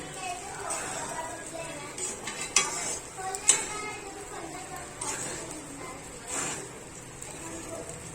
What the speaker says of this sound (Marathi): आता याला चांगलं परतून घेऊया।